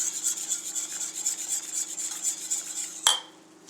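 Vanilla ice cream base being stirred in a pot, a steady close scraping and rubbing of utensil against metal that continues evenly, then ends with a sharp clink before quiet.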